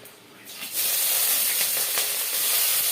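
Cloves and green chillies fry in hot oil, starting as a faint hiss and jumping into a loud, continuous crackling sizzle up close that stays strong to the end.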